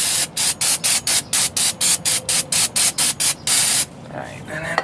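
Brake cleaner sprayed onto the front brake rotor of a 2001 Buick LeSabre Custom in a rapid series of about a dozen short, loud hissing bursts, then a longer spray that cuts off into quiet.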